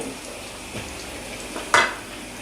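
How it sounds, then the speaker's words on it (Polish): Cheese doughnuts (oponki) fry in a pan of hot fat in a home kitchen, a soft steady sizzle with a few light scrapes and one sharper clink of a utensil against the pan near the end. "Oponki usmażymy na złoto-brązowy kolor"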